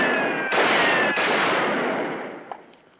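Gunfire crackles in a sustained burst of shots, loud and dense, with a fresh volley about halfway through before it thins out and fades, one last sharp pop near the end.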